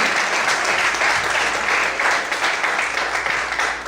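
A church congregation claps loudly and steadily after a sermon, a thick wash of applause with no pause.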